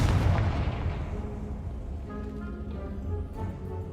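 A Confringo spell explosion in Hogwarts Legacy: a heavy booming blast that rolls and fades over a few seconds, loud and alone, with a faint tonal rumble trailing underneath.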